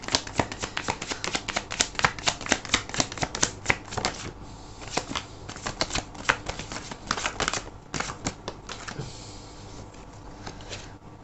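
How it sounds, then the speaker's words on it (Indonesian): Tarot cards shuffled and drawn during a card reading, a steady run of dense riffling and flicking with crisp card slaps throughout, close and fairly loud, no voices. "Oke, aku akan ambil 3 kartu lagi."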